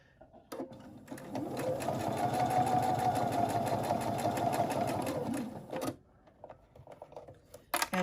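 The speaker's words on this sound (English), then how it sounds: "And I'm going to stitch my brim onto my cap, again using a 1/4 inch seam allowance." A sewing machine runs steadily for about five seconds, stitching a very stiff brim onto a billed cap with a quarter-inch seam allowance, then stops, leaving a few faint handling clicks.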